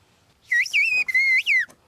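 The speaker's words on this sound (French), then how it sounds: "la langue sifflée." A young woman whistles in an ancestral whistled language, a few sustained, gliding high-pitched phrases with rising and falling contours, clear and close, with brief pauses between phrases and no speech.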